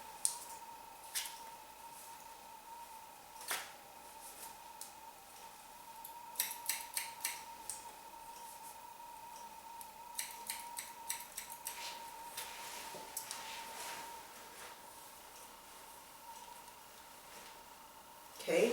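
Scissors snip through long hair being cut short for a pixie cut, quiet, close clicks and crisp cuts coming in irregular bursts over a faint steady background hum.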